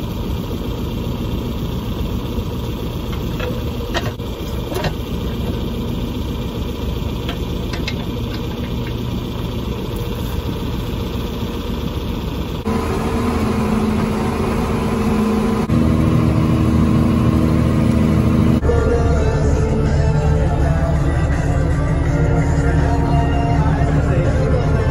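A John Deere 4240 tractor engine moves hay wagons with a steady, close diesel drone, idling at first, then shifting to heavier, louder running with changing pitch and rattling vibration.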